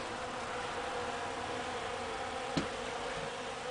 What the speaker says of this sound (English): The bees from my overwintered nuke in the greenhouse come through that window there that I raise, and they are going completely mad over these flowers